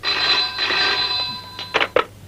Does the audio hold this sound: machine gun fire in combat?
no